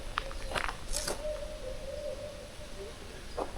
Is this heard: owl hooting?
yes